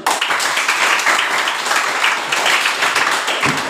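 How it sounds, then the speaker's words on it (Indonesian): A classroom of students claps together at a teacher's prompt, a dense burst of hand claps that holds steady for a few seconds, close and fairly loud, with no speech over it. "Kita tepuk tangan dulu."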